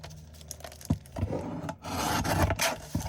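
Paper being trimmed along the top of a junk journal page, a close, scratchy rasping of cutting strokes with short pauses and soft knocks between them.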